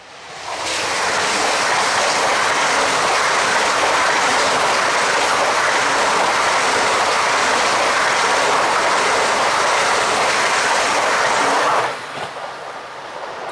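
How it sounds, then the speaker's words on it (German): A Deutschland-liveried ICE high-speed train passes at the Neuoffingen rail junction in November, a loud, sustained rushing roar with wheel noise that holds for about eleven seconds, then drops off abruptly. "Der Deutschland ICE."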